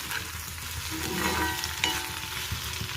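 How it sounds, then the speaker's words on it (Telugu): Cooked potlakaya (snake gourd) is stirred in a pan on the stove while making pachadi, giving a steady close sizzle with soft scraping and stirring throughout, and no talking. "రెండు చేతితో తిప్పేసుకోండి."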